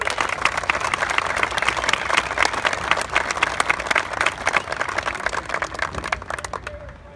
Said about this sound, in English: I think it really deserves a big round of applause